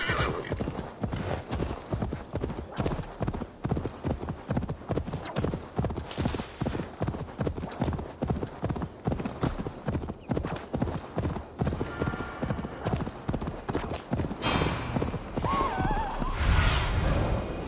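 Many horses gallop in Assassin's Creed Valhalla, their hooves pounding in a fast, continuous rhythm that stays loud and close throughout, with neighing breaking through over the thunder of hooves.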